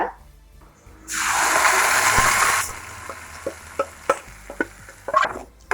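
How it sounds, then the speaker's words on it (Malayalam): Red coconut chutney warms in a pan with a loud sizzling burst when it goes in, then scraping stirring strokes in an uneven rhythm, close and with no one talking. "നന്നായിട്ടൊന്ന് മിക്സ് ചെയ്ത് കൊടുക്കുക"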